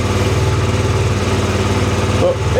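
A cold KTM Duke 125 single-cylinder motorcycle idles steadily at just over 2,000 RPM, a loud continuous low thrumming pulse close by, with a voice speaking briefly near the end.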